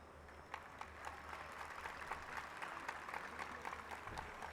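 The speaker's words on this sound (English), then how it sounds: "let's give you all a big applause." Faint applause from a university commencement crowd, steady and distant, with scattered individual claps standing out.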